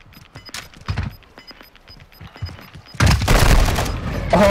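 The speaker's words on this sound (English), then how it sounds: "He's got a machine gun." Call of Duty: Modern Warfare II machine gun fire breaks out as a loud, dense burst in the final second and a half, after quieter scattered thumps and footsteps.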